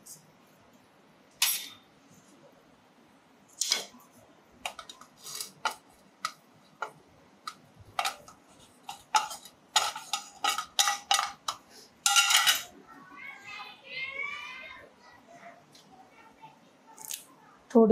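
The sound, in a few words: pounding spices in a mortar and pestle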